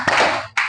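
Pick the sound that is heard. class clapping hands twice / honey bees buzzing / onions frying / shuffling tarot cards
class clapping hands twice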